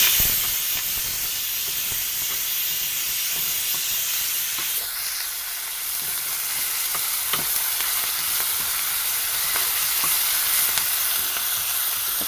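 Onions with ginger paste fry in a pan for bagara rice, a steady loud hiss and sizzle throughout with occasional clinks of a stirring spoon, no talking.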